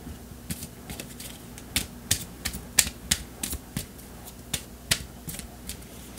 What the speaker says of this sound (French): je vais tirer une carte ici